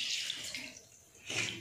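Water splashing and running from a tap as the nose is rinsed during wudu ablution, two short close bursts of flowing water with a softer dip between them.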